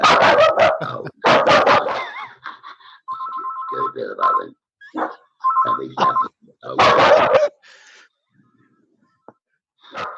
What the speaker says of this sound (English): then the dog barked